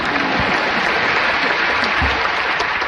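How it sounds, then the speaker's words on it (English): A large crowd at a live event in Manila breaks into applause, a loud continuous roar of many hands clapping at once, dense and unbroken throughout. "you can clap to that."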